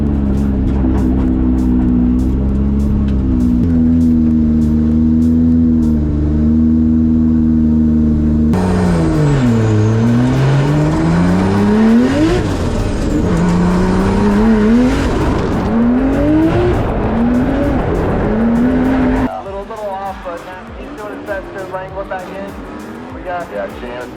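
Drift cars run in tandem at a drift competition, engines howling and revving through rising and falling pitch while tires squeal and skid, loud and close, with commentators talking over the action.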